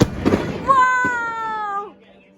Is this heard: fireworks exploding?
yes